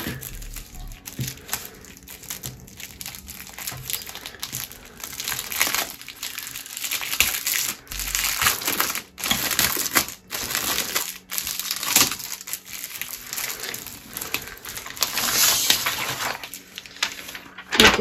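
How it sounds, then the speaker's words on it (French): Thin plastic laminating pouches are opened and handled, giving crisp crinkling and crackling bursts that come and go close by at a moderate level, with no talk. "c'est comme des pochettes plastiques. Voilà, donc on les ouvre et on vient glisser en fait la feuille qu'on veut plastifier dedans"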